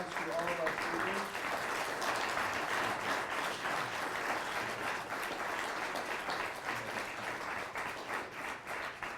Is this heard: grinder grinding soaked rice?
no